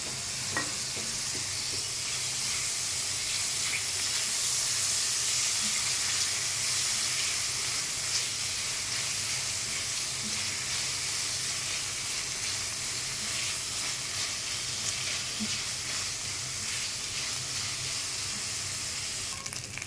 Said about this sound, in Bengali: এখন পেঁয়াজ আর আদা দেব, আর একটু কাঁচামরিচ দিয়ে এটাকে আবার আরেকটু ভেজে নিতে হবে